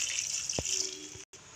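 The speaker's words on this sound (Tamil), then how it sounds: "இப்போ தேவையான அளவு தண்ணி ஊற்றிக்கலாம்." Water pours steadily into a pot of ground masala for chicken curry with a continuous hissing splash, close by, briefly cutting out near the end.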